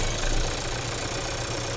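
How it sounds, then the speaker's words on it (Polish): A 1.5 TSI car engine idles steadily up close, a dense, even rumble with a slight mechanical rattle and no speech. "Silnik pracuje poprawnie."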